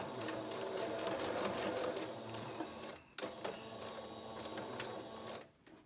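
A sewing machine stitching a fabric face mask, its motor whirring in steady bursts with rapid needle clatter, pausing briefly midway and again at the end, close and fairly quiet, with no voices.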